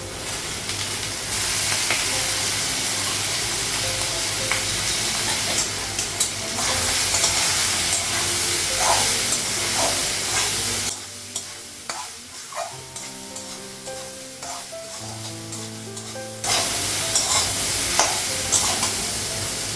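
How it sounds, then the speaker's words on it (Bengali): Soybean chunks and potato sizzle and fry together in oil in a wok, with salt and turmeric added, a steady loud hiss broken by stirring scrapes, dipping briefly to a quieter sizzle midway before the full hiss returns. "সয়াবিন আর আলুটা একসঙ্গে লাগিয়ে দিলাম"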